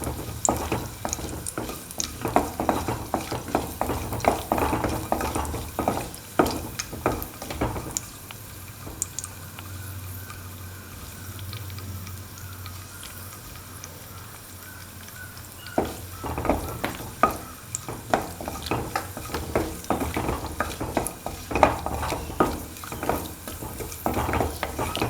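Cashews frying and being stirred in a pan for a banana pudding give a steady sizzle with repeated scraping strokes, quieter for a stretch in the middle before the stirring picks up again.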